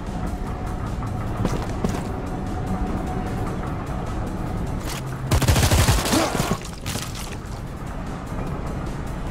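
Dense sustained gunfire in the Security Breach DLC arena, a steady crackling barrage running throughout, swelling into a louder burst of shots and impacts near the middle before settling back.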